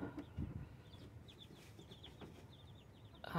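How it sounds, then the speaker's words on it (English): Chickens cluck softly in short, scattered bursts nearby, with faint rustling in the background and a louder thump at the end. "the chickens that want to come out can come out"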